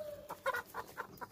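Hens and a rooster on a farm cluck in a quick series of short, soft calls close by, about half a dozen clucks in under two seconds, with no voices.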